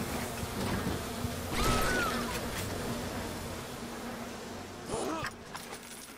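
Insect buzzing from bees in BioShock Remastered, set in a grocery market, drones steadily at moderate level under other game ambience, with a brief whoosh and a short rising swell near the end.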